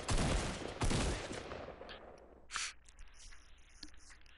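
Gunfire in the video game Fortnite: a dense burst of rapid shots up front that fades into a trailing echo, followed by one more sharp report and a few faint pops, with no one talking.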